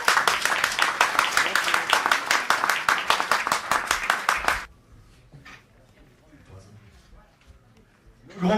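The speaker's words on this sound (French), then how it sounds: "accueillir et applaudir bien chaleureusement le grand moudjahid de la Fédération de France du FLN" Enthusiastic audience applause welcoming a guest at a ceremony honouring FLN France Federation mujahideen, dense rhythmic clapping for several seconds before cutting off to quiet room noise, with clapping swelling again at the end.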